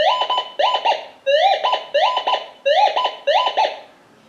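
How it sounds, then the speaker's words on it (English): Gold Monster 1000 metal detector passing over steel, a string of loud paired electronic warbles, some bursts rising in pitch, repeating at a quick even pace up close without speech. "so you can hear it do a double chatter going off the one side"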